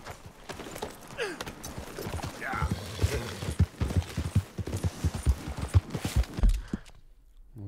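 Horse hooves clip-clop at a steady trot in Red Dead Redemption 2, a run of close, regular thuds lasting several seconds before stopping abruptly, with a voice talking over them.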